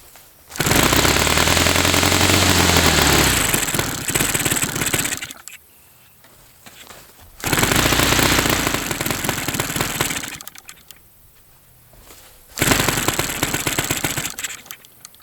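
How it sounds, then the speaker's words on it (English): A Saito FA-300T four-stroke twin model aircraft engine runs at about one-third throttle, a loud, close, steady buzzing roar in three bursts separated by quieter idle-like gaps. "let's go back to a little, about 1/3 throttle"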